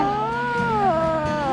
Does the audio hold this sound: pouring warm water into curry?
no